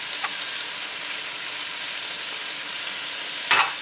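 Carrots, celery and sprigs of fresh herbs cooking in a pan for braised rabbit, giving an even, soft frying sizzle throughout, with a short scrape or clink at the end and no speech.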